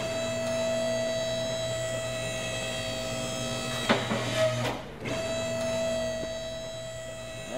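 In Car Mechanic Simulator 2018, a garage car lift lowers with a steady electric motor hum carrying several tonal whines, briefly interrupted by a clunk and a short pause before the droning resumes.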